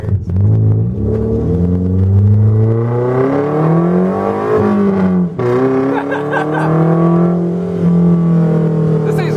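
Car with a sidepipe exhaust accelerating hard through the gears, loud and close, its rising engine tones breaking at the gear shift before climbing again.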